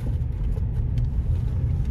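A 2023 Hyundai i20 Sportz engine accelerating on the road, heard as a steady low rumble and road noise from inside the cabin, continuous and moderately loud with no talking.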